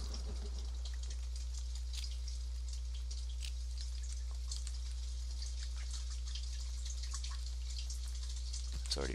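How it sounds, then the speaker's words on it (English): Rain falls at night in the survival video game The Forest, a steady soft hiss with scattered patters over a constant low hum, with no voices. "The rain makes you freeze. It rains every night in this place."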